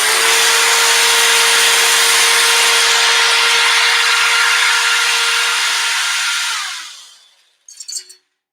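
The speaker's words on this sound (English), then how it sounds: "So first we will use the variable speed drill for a minute." A variable speed drill fitted with a small whisk attachment spins steadily and loudly for about seven seconds with a constant motor whine, then winds down and stops, followed by a brief clatter.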